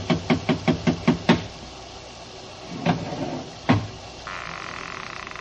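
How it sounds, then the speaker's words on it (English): A bronze idol rapped against a door, a quick series of six sharp knocks followed after a pause by two heavier, more isolated thuds, close and distinct over a quiet background. "I lifted the bronze idol and rapped on the door with it"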